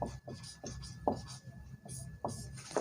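Chalk or marker drawing a line on a classroom board, short rubbing strokes repeating every half second or so, close and moderately loud, with no clear speech.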